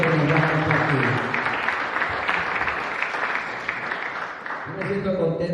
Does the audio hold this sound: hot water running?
no